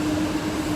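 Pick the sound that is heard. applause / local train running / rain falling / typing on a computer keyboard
local train running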